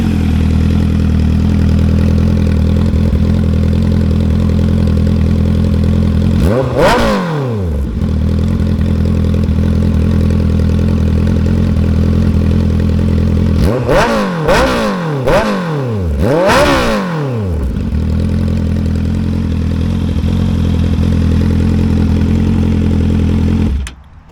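Honda CBR650R with a Musarri Street Series exhaust idles steadily and loudly, then takes one sharp rev around seven seconds and a quick burst of four or five throttle blips later, each rising and falling before settling back to idle.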